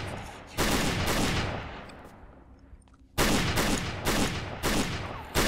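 Bursts of rapid gunfire in the zombie survival game Project Zomboid, one volley then a pause with faint background, followed by a longer loud series of close shots.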